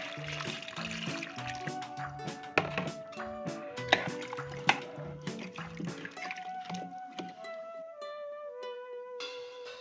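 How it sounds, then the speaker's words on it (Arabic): Sauce and broth are poured into a potato and meat tagine, with soft trickling and filling sounds whose pitch rises, plus occasional light knocks, heard close and quiet. "هنزل بقى بالصلصه، هنزل بنص كوبايتين شوربه"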